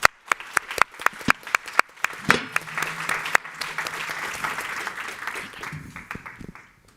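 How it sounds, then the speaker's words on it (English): Audience applause for conference panelists at a child marriage event, starting as a few sharp scattered claps that swell into steady, dense clapping from a sizable crowd, then thinning out toward the end. "please join me in a round of applause."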